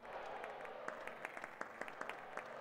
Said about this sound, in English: There's like four people clapping.